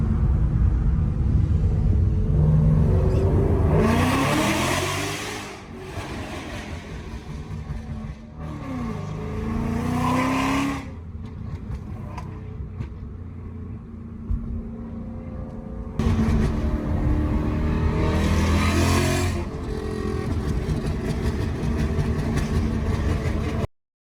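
A car engine rumbles and revs up inside a tunnel, the low drone swelling in two loud surges with a hollow, echoing quality.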